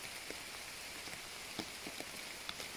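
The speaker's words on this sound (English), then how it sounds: "since I am falling in love with rain and I am pushing through the rain" Steady rain falls on a surface in a dense, even hiss, with scattered louder drop ticks throughout and no voices.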